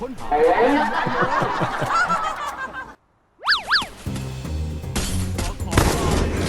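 Rapid gunfire in a video game, with snickering voices, a springy boing and game music; loud shots and effects bunched around a short silent gap.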